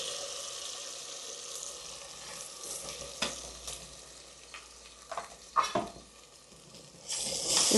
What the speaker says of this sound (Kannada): ಸ್ವಲ್ಪ ಚೆನ್ನಾಗಿ ಮಸಾಲೆ ಎಲ್ಲ ಫ್ರೈ ಆಗಬೇಕು